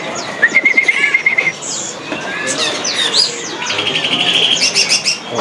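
A cucak ijo, or green leafbird, sings busily at a bird market, pouring out varied whistles and chirps against a noisy crowded background with other birds calling.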